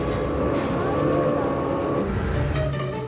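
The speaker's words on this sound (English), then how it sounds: "so we can still use snow machines." Snowmobiles running just outside the wilderness area of Denali National Park, a loud steady engine drone with sustained tonal whine, close and continuous throughout.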